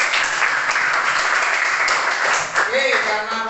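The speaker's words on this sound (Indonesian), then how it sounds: "Wah, tepuk tangan. Bagus." Schoolchildren in an elementary classroom clap together in a steady, dense patter that runs throughout, with children's voices and a brief raised call rising near the end.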